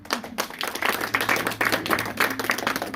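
A crowd claps and applauds at a lively Uzbek gathering, dense irregular clapping building steadily over the whole stretch with a faint low hum beneath.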